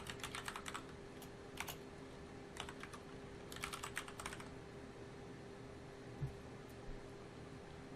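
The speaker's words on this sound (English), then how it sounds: "I can type in my computer name." Computer keyboard typing while entering a computer name during a Windows 8 setup, with quick bursts of keystrokes in short clusters separated by pauses against a faint steady hum.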